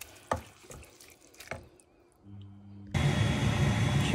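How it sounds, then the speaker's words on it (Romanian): Water is poured into a pot of creamy spinach soup on the stove, first a few faint drips and clinks, then a steady, close rush of running water filling the pot, with no talking. "a fiert, am mai pus un pic de apă"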